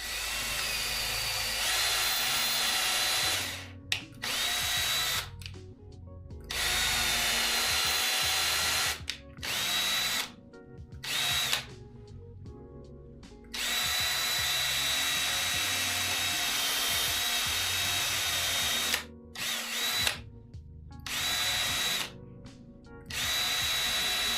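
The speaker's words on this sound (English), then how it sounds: "This builder drill bit sucks." A power drill boring into wood whirs loudly in long bursts, stopping and restarting several times with brief quiet gaps between runs.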